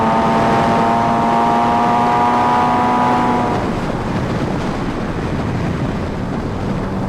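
A Kawasaki Ninja H2R motorcycle engine roars while riding, a loud, broad rushing noise with a steady tonal whine for the first few seconds before it settles into a rough, wind-heavy rumble.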